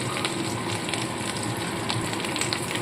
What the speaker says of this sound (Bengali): একটু হালকা হালকা ভেজে নিয়ে আমি তুলে নেবো